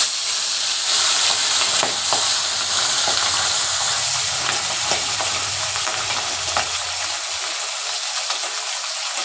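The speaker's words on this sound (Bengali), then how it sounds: "কড়াই আমি সরষের তেল দিয়ে তেলটা গরম করে নিয়ে মাছগুলো এবার ফ্রাই করে নিই।" Pabda fish fry in hot mustard oil in a wok, a dense continuous sizzle and hiss with occasional stirring clicks, close and steady throughout with no talking.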